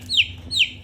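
Two short, high descending calls from a hen a moment apart, fairly close, over a faint low background hum.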